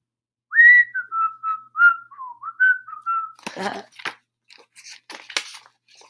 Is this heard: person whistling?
yes